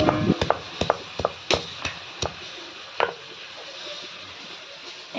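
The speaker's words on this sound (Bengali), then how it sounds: "এখন আমি মশলাগুলো বেটে নেই" Onion, garlic, ginger and cumin are ground on a grinding stone, a series of close, sharp knocks and scrapes coming in an uneven rhythm that thins out toward the end.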